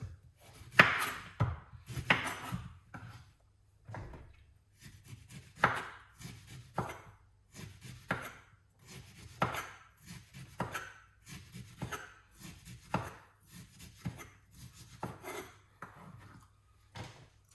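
A knife chops a lemon repeatedly against a cutting board, steady thuds with brief pauses between bursts, close up with no talking.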